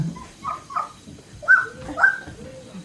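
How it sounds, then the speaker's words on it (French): A small dog in a children's story gives soft whimpers and short yips, several brief high calls spaced irregularly, close and fairly quiet against a faint background. "Le chien devient tout doux et tout mignon."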